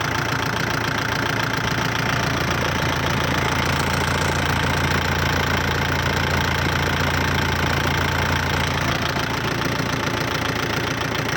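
A 2018 Kubota 50 hp tractor engine, warmed up after about eight minutes of running, idles loudly and steadily with a rough, knocking diesel rumble close by and no talking.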